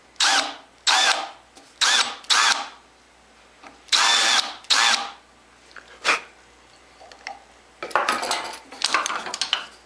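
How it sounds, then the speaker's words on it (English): A countersink bit in a drill bevels a wooden chisel handle in a workshop, giving a series of short, sharp whirring bursts with brief pauses, followed by a longer rough grinding stretch. "the easiest way to make the matching bevel is with a countersink bit"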